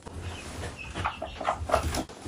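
A hen and a rooster cluck softly nearby in a countryside setting, giving a few short, low murmuring clucks that rise to a slightly louder burst toward the end.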